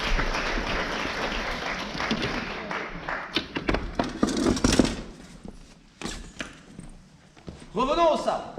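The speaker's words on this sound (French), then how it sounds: "Vous pouvez l'applaudir, hein, il n'a pas trop l'habitude." An audience at a historical costume show claps in a steady broadband patter that rises and thins, mixed with speech and a few sharp taps, ending in a brief louder burst.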